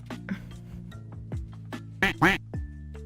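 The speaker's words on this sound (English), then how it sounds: "Hold on, where's my quack? Quack." A quacking duck call sounds several times in short, nasal bursts, the loudest pair coming near the end.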